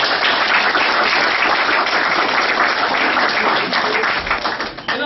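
An audience at a motivational talk bursts into loud, sustained applause, dense clapping that holds steady for several seconds before starting to thin out near the end.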